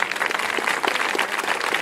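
An audience gives a test round of applause at a host's request: a dense, steady crowd clapping that holds at an even level throughout, with no talk over it.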